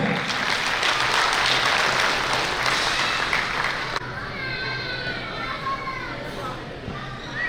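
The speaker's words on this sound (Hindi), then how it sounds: "होदय श्री रामलीलाल मीणा जी ये पधार चुके हैं, तो जोरदार तालियां उनके नाम पे।" A crowd claps loudly for a few seconds at a Meena community gathering, then the applause gives way to chattering voices and children's noise in a busy hall.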